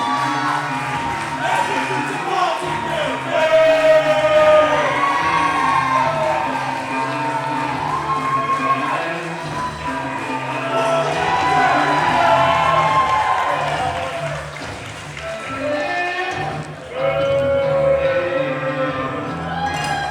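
Live independent wrestling crowd jeers and shouts at wrestler Gio Bronco, a sustained roar of mixed voices and cheers filling the hall under a commentator's talk.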